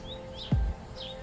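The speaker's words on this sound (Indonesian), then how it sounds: "Kicauan burung itu memanggil" Birds chirp faintly in the distance with a few thin rising tweets, and a soft low thud sounds briefly near the middle.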